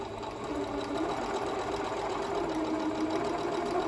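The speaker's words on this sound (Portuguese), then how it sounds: "Vou iniciar com retrocesso." A sewing machine runs steadily while stitching a seam with a backstitch, giving a close, even mechanical whir that continues without a break.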